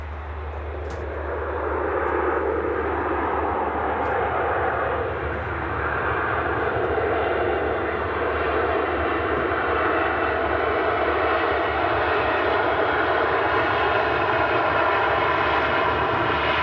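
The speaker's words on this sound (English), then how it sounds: "A low hum from the CF56 engines on the Ryanair 737 as she exits runway 23" Steady low hum and broadband roar from a Ryanair Boeing 737's CFM56 engines as the jet taxis off runway 23, loud and continuous throughout with no talking.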